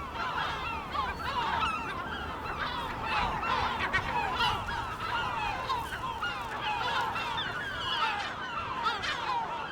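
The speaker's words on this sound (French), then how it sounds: "Cet ornithologue observe sur ces îlots une recrudescence de goélands qui vire au déferlement" A dense colony of gulls calls over small islets off the Apulian coast, many overlapping honking and squawking cries close and far, continuous throughout with no voices.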